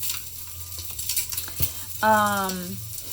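Sliced ginger sizzles in a hot pan for chicken soup, with a steady frying hiss and brief stirring scrapes, then a short tonal squeak near the end.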